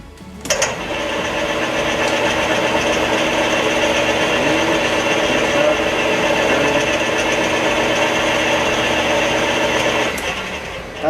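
Lathe turning a very thin metal rod for a rotor oval jig, a steady close mechanical whir and hum holding evenly for about ten seconds before stopping.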